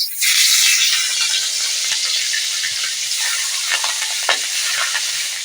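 Prawns dropped into hot oil in a pan with dried red chilli, a loud close sizzle bursting up at first, then a steady hiss with occasional spatters and stirring scrapes.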